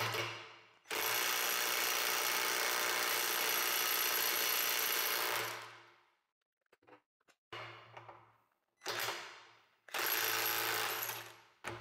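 Cordless power tool with a 2 Ah battery loosening an M16 bolt set at 80 Nm, a loud sustained whirring drive for several seconds followed by shorter stop-start bursts with silent gaps.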